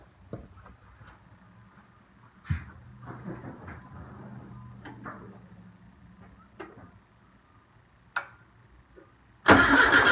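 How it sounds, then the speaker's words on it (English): A VW engine being turned over, mechanical clunks and a low grinding hum running for several seconds near the source, broken by sharp knocks, ending in a loud burst of noise. "going to turn the engine over"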